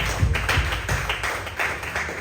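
A church congregation claps along in praise during a Hindi sermon, a steady run of fairly close, rhythmic hand claps lasting a couple of seconds.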